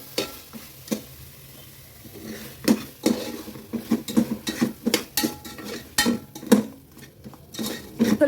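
A spoon scrapes and clatters against a cooking pot while mutton paya soup masala is stirred, with a soft sizzle underneath and irregular, fairly close knocks of metal on metal.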